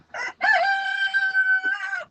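A golden Sebright chicken loose on a farm gives a short cluck, then a long, loud, close crow that trails off near the end.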